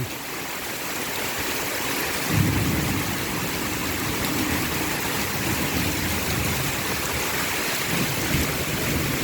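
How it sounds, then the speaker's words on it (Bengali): A torrential downpour roars steadily and continuously, with deep rumbling swells rising under the rush of the rain. "বাবা, প্রচণ্ড বৃষ্টি, প্রচণ্ড পর্যায়ে বৃষ্টি।"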